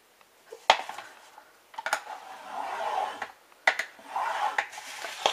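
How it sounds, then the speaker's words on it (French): A sheet of paper being folded and creased by hand makes sharp crisp snaps and rustling crinkles in short bursts with pauses between them, close and fairly quiet. "Je tourne mon papier et je fais à 10 cm un pli."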